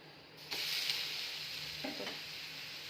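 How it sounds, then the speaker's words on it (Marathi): Uttapam sizzling in a hot pan as it is flipped, a steady close frying hiss that jumps louder at the flip, with a couple of soft scraping touches from the spatula. "चला आता उत्तप्पाला आपण पलटून घेऊया"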